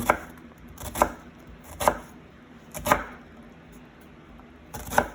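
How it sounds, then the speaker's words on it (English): An onion is diced with a knife on a cutting board, giving five sharp, separate chops at uneven intervals of about a second, close and clear over a quiet background, with no talking. "Otherwise, dicing onions takes a very, very, very long time, and it's a hard process."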